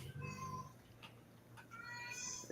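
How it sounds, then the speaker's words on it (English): A cat meows a couple of times with drawn-out, wavering cries, quiet and slightly distant, during a livestreamed tabletop roleplaying game. "I hear a kitty. It sounds like a kitty."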